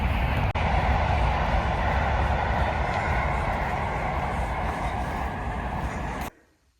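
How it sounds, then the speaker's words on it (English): A train rumbles past steadily at moderate distance near a smallholding in the evening, a broad continuous roar that holds level and then cuts off abruptly near the end. "there's been a lot of trains tonight"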